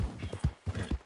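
Rhythmic clip-clop of horse hooves in the video game Red Dead Redemption 2, close and fairly quiet, falling in uneven pairs of dull thuds.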